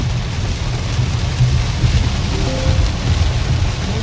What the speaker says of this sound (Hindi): बारिश, इतनी तेज हो चुकी है कि विजिबिलिटी बिल्कुल ज़ीरो हो चुका है।